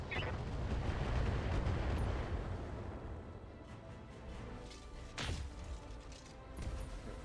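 Mech weapons fire in the Battletech video game: heavy booming volleys and rumbling blasts, loud at the start, with sharp impacts later, under a dense, continuous roar.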